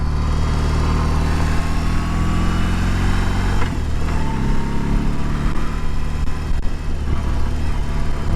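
A 2022 BMW R18 motorcycle with a boxer engine runs steadily, a loud, dense low rumble that holds throughout with slight shifts in pitch, heard up close.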